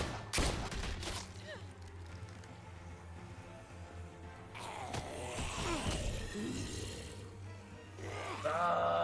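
Gunfire in Telltale's The Walking Dead, a PS4 game: a sharp burst of shots near the start, then a later flurry of firing and clatter, with game ambience and occasional voices.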